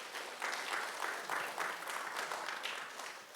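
A church congregation gives a round of applause for high school seniors. The clapping is dense and steady, heard from within the room, and it rises and falls slightly in loudness throughout.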